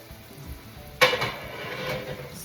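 Tomato sauce being stirred in a cooking pot for gluten-free lasagna, a sudden loud scrape-and-sizzle starting partway through, then a steady wet stirring swish continuing close by with no talk.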